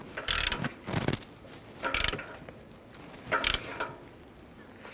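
A ratchet tightening an upstream O2 sensor through a split socket on a 2009-2015 Honda Pilot, four short bursts of rapid clicking ratchet strokes, close and fairly quiet.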